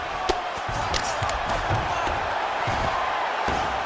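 An arena crowd at a UFC fight roars in a sustained, noisy swell, with scattered thumps and shouts in the hall.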